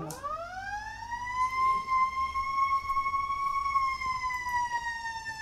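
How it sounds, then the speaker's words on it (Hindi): Wailing police siren sounding from a car, a steady loud rising and holding electronic tone continuing throughout against light background noise. "गाड़ी तो नॉर्मल लेकिन पुलिस का सायरन बजा रहा"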